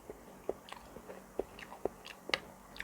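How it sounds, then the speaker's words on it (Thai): Eating a spicy Thai chicken feet salad with plenty of broth: close, soft wet bites and chews come in a loose, irregular rhythm, each short and distinct against a quiet background, with no talk. "ตอนนี้ก็สามารถซดน้ำยำนะครับ เป็นน้ำซุป ได้ เลย"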